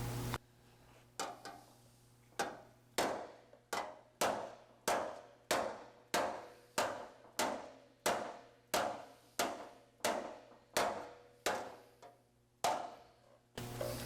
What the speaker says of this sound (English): So I have that rounded hammer, which is loose.